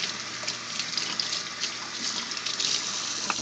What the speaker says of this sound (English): once I've scrubbed everything, what I do is I rinse the parts out with warm water